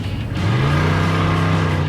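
A 250 cubic inch Cadillac V8 making 170 horsepower revs up loud and close, its rough, throaty idle rising into a sustained, climbing growl.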